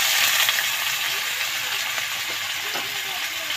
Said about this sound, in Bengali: তো দেখো কড়াইতে তেল দিয়ে আলুটা আমি এখন ভেজে নিচ্ছি।